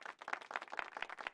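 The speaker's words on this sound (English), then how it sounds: "A single person applause." One person clapping alone during a remix contest livestream, about ten quick, fairly even claps in just over a second, close and moderately loud with no talk over them.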